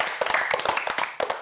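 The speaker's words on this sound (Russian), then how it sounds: "Аплодисменты!" Applause from a small quiz-show audience in a Belarusian-language studio competition, with a handful of distinct, loud, uneven claps over 1.4 seconds.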